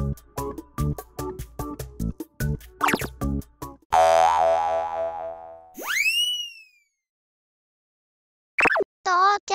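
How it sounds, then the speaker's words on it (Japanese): Cartoon trampoline bouncing in a children's railway-crossing animation: several loud springy boings with wobbling, rising and falling pitch, heard after a run of rapid rhythmic clacking and followed by a pause and short bursts of sound. "トランポリンで遊んでね。"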